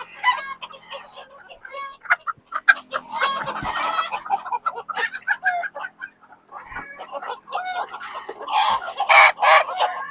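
Baby silkie chickens cluck and squawk busily at close range during farm chores, a steady run of overlapping calls with a few sharper, louder cries near the end.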